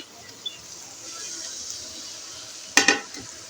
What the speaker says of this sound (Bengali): সব মশলা একসাথে আমি মিক্স করে নেব নিয়ে এখানে আমি মশলাগুলো নেড়ে